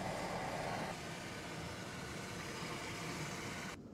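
A combine harvester runs in a wheat field as a steady, fairly distant engine drone with broadband machine noise and no talking. It shifts slightly partway through and cuts off at the very end.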